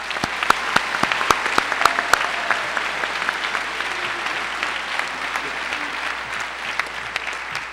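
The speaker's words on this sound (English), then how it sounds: "Give them a round of applause." Steady applause from a school auditorium audience honoring National Guard members at a high school senior celebration, with some sharp individual claps standing out early on and the clapping holding fairly even throughout.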